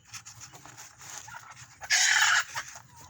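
Free-range chickens clucking softly near a coop, short scattered calls over quiet background with one louder burst of noise midway.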